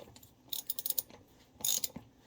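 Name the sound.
ratchet cranking while changing a Cub Cadet lawn tractor tire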